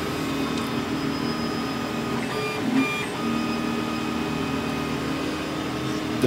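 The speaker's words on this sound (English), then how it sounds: "This machine is called the Onogrim and is a 3D printer. It's currently printing a topography of our mountain campus" A 3D printer, the Onogrim, runs steadily as it prints a detailed topography model of a mountain campus at Pingree Park, its stepper motors whining in sustained tones over a constant mechanical hum, with a few brief clicks partway through.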